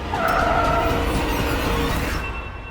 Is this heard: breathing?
no